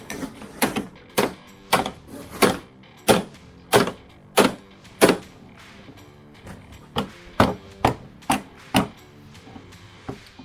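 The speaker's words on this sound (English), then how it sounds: "I find that the smacking method's better than the pry method, Mark." Sharp metallic smacks knock the hinge pin out of a third-generation Camaro door, about fifteen close, loud strikes in uneven bursts with short pauses between groups.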